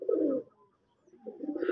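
Pigeons cooing close by in a loft, two short throaty coos separated by a brief pause, quiet overall with no other voices.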